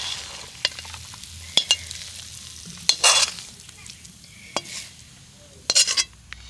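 A coconut and jaggery laddu mixture is stirred in a pan over medium heat, giving scattered scrapes and taps of a utensil against the pan over a faint background sizzle, with no talking.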